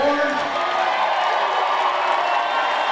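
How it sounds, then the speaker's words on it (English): A commencement crowd cheers, whoops and applauds the graduating class of 2024, a dense, sustained roar of clapping and shouting filling a large ceremony space. "let's have a nice big round of applause for the class of 2024"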